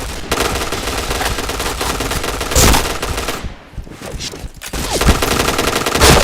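Rapid automatic gunfire and single shots from an online multiplayer shooter game, loud and continuous in dense bursts, with a brief lull midway before the firing resumes.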